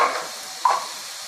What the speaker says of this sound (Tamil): இந்த காயை நல்லா வதக்கி விடலாம்.